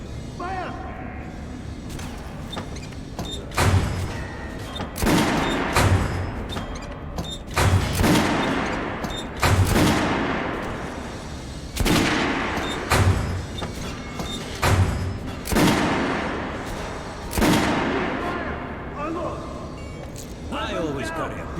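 Gunfire in the shooter game Metro Last Light Redux: a series of loud, sharp shots spaced a second or two apart over a rumbling game soundtrack, each with a booming low thump.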